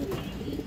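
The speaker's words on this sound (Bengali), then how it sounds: "ওর ডাকাডাকিটা দেখেন, খুবই অ্যাক্টিভ নর, সুস্থ সবল কবুতর" Active, healthy male pigeon cooing nearby, a soft low throaty coo that fills the short moment.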